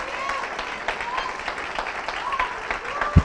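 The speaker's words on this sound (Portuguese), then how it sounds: "Você pode aplaudir ao Senhor," A church congregation applauds during a sermon, a moderate wash of clapping that runs steadily throughout, with a voice over it and a sharp thump near the end.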